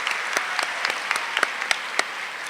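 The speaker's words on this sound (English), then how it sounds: "Give them all a round of applause for being here." Graduation audience at the East Ridge High School 2018 ceremony gives guests a round of applause, a sustained crowd clapping with a few sharper individual claps standing out, heard from within the hall.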